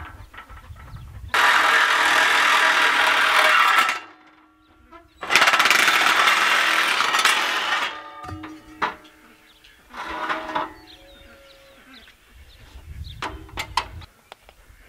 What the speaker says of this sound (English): All I'm using basically is a metal bit on the DeWalt, and it's just a Sawzall.